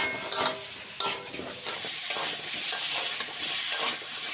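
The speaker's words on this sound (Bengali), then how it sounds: "এখন সব সবজি ভালো করে একটু ভেজে নেব" Carrot, chilli and mixed vegetables with a pinch of turmeric frying in a pan for a Bengali-style chicken stew, a steady bright sizzle broken by regular scraping stirs of a spatula, close and fairly loud, no voices.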